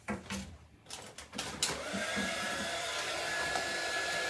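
A hair dryer blows steadily over a craft door hanger, a continuous close whooshing roar that follows a few short knocks and handling sounds.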